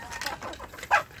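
Free-range kampung chicks give a brief, soft cluck near the end of a short, quiet stretch of faint chirping.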